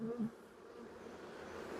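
Honey bees humming in an open hive during a colony check after Formic treatment, a faint low drone with a brief louder buzz at the start, then a quiet steady hum.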